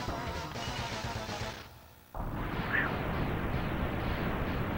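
An explosion during the Sigma boss fight in the Mega Man X video game: dense crackling blasts roar loudly, dip briefly, then burst back into a sustained, rumbling barrage.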